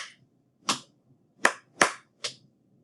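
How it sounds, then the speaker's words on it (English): Five separate sharp claps or stomps, each standing alone with short gaps, in an uneven beat of a body-percussion rhythm played during a music lesson. "Clap, stomp, clap, clap, stomp."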